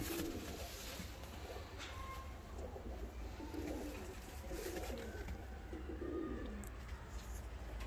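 Young black Moikan fancy pigeon cooing, low soft coos repeating at intervals close by over a steady background hum.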